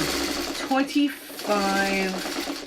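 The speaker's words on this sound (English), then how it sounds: "get this all under my sewing machine needle" A sewing machine with a fresh needle and short stitch length runs through string-pieced fabric in brief bursts of steady mechanical whirring, close by, with a voice talking over parts of it.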